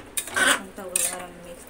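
Rice is mixed in a cooking pot for egg biryani, heard as two short bursts of a metal spoon scraping and clanking against the pot, close and fairly loud, with a faint voice in the background.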